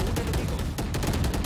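Rapid gunfire in a Valorant-style tactical shooter, a dense continuous burst of shots filling the clip, loud and close with no talking.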